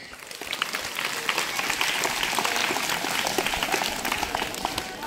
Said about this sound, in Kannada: ಒಂದ್ಸರಿ ಜೋರ ಚಪ್ಪಾಳೆ ಹಾಕಂದ್ರ